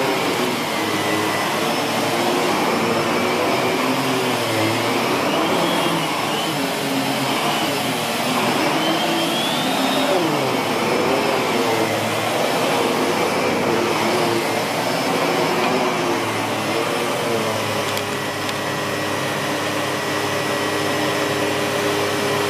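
A Miele S7510 upright vacuum cleaner runs continuously, a loud, steady motor roar with airy suction noise and slight tonal wavering, close by with no talk over it.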